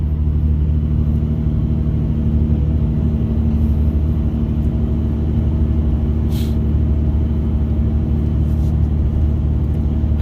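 An old Dodge car cruises up hills on a gravel grid road, heard from inside as a loud, steady engine drone and low road rumble with no gear change.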